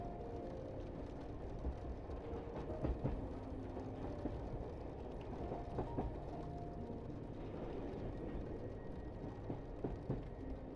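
A night train running on the tracks from Rome toward Sicily, a low steady rumble with faint rhythmic clicks of wheels, quiet and continuous.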